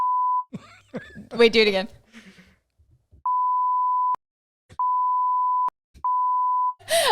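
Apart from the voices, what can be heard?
beeping sound effect from a button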